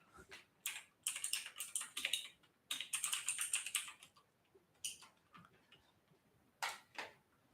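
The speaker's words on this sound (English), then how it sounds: "It's a pretty old TVS mechanical keyboard." Quick clattering keystrokes come from an old TVS mechanical keyboard, close and crisp, arriving in short bursts of typing separated by brief pauses.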